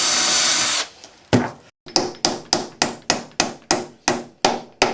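A drill runs briefly into a wooden bluebird house board, then about ten sharp, evenly spaced knocks follow, each ringing out and fading before the next.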